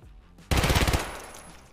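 A PPSh submachine gun fires in Escape from Tarkov: one short, rapid burst of about eight sharp shots, loud and close, after a quiet moment, then a fading echo.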